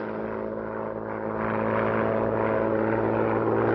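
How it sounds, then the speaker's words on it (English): A propeller aeroplane flies overhead, giving a continuous droning hum that stays steady and gradually grows slightly louder, with no voices over it. "You mean a kind of humming noise? Yes. No, I can't hear anything. Oh, can't you hear that? Sounds like an aeroplane."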